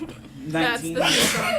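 One sharp human sneeze bursting out at close range amid a casual group conversation, with people talking just before and around it.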